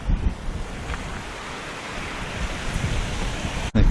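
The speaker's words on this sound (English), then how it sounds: "Bit of a weir here." River water spills over a weir at Warsop outdoors, giving a constant rushing roar mixed with microphone wind buffeting.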